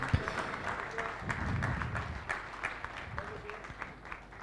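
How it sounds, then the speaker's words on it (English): Distant applause from a large audience at a national summit panel discussion in India, a soft continuous patter of clapping with some crowd murmur underneath. "please put your hands together for them."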